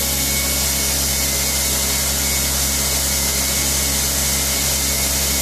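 A machine spindle running at around 4,000 RPM gives off a loud, steady whir with a constant hum, close and unbroken with no voices.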